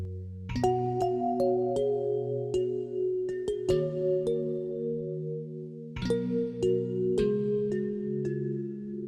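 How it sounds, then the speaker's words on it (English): Sampled bright plucked tones from a kitchen bowl rim struck with a felt guitar pick ring out in overlapping layers, sharp attacks followed by long shimmering sustain, a short sequence repeated with a brief pause. "I would just like pluck the rim of the bowl with this felt guitar pick"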